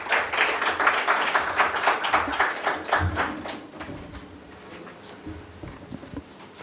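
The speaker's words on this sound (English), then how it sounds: "Big round of applause for our speaker tonight." A lecture audience claps for the evening's history speaker, a broad, crackling patter that runs strongly for a few seconds before thinning and fading out.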